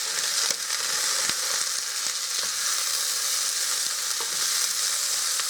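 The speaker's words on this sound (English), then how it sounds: "I'm also going to put in some sausage. This is my smoked sausage, or my kielbasa. So with that, I'm going to give that a good stir." Smoked kielbasa sausage and garlic sizzling in a hot skillet for a breakfast dish, a steady frying hiss with soft scrapes and taps of a spoon as the pieces are stirred, close and continuous with no talk.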